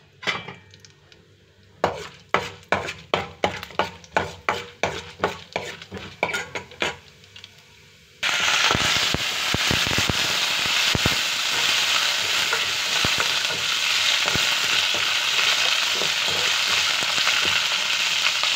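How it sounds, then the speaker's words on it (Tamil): Mustard seeds and urad dal tempering in hot oil for coconut milk rasam: several seconds of rhythmic spoon clinks against the pan, then a sudden loud, steady sizzle that crackles on without a break. "கடுகு உளுத்தம்பருப்பு தாளிச்சிடும்."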